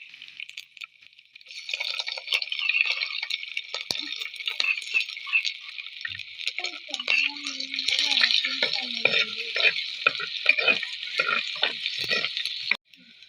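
Curry leaves, crushed ginger and garlic fry in a hot pan of oil for a Kerala-style meat fry, giving a steady, close crackling sizzle throughout with occasional stirring scrapes and no talking.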